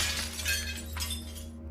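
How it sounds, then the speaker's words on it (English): Glass shatters somewhere deeper inside an apartment, a sustained bright crash of breaking panes that fades after about a second and a half over a steady low hum. "I barely had time to process my surroundings when I heard glass shattering"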